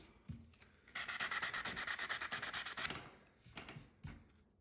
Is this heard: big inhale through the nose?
no